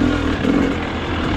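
A 2023 KTM 300XCW two-stroke dirt bike engine drones steadily at mid revs while being ridden hard off-road, loud and continuous with a rough, buzzing tone and no talk over it.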